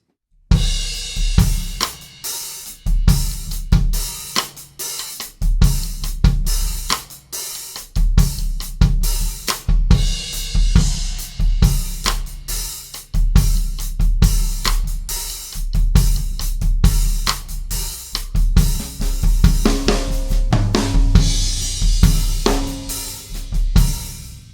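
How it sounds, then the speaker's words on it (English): A drum kit plays a steady groove with a riding hand on cymbal, punchy kick and a delayed cross-stick flam on the backbeat, triggered through an X-Click, close and crisp throughout. "So really cool effect, that sort of delayed cross stick sound"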